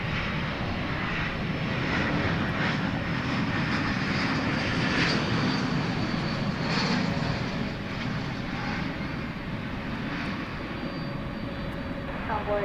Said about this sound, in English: is about to touch down from Phoenix, Arizona. It's an Airbus A321.